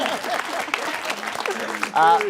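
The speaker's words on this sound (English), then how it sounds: "Big round of applause." Crowd applause at a Grand Final show, clapping running under a speaking voice, with a brief louder tonal burst at the end.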